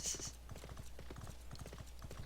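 Clip-clopping hooves of a small, chubby horse mount ridden by a Lalafell in an online video game, a steady rapid rhythm of close hoofbeats with a brief whinny-like tone at the start.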